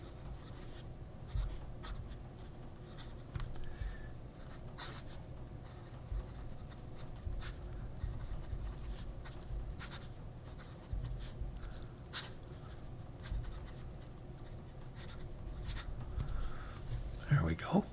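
A fountain pen with a 14 karat fine nib writes across paper in a soft, steady scratch, faint and close, with small strokes and pauses running throughout and quiet room tone underneath.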